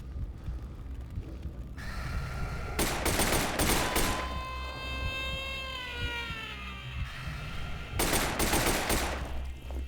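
Rapid bursts of gunfire in the first-person shooter F.E.A.R., loud and close, come in two clusters with a lingering eerie tonal whine and background rumble between them.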